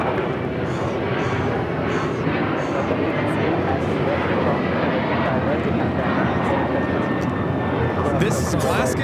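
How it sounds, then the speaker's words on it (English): An Alaska Airlines Boeing 737-900ER in UNCF livery takes off from LAX bound for Guadalajara, a loud, steady broadband jet roar filling the whole stretch close by, with a rising whine near the end. "This is Alaska Airlines 1418 taking off to Guadalajara on a 737-900ER in the UNCF livery."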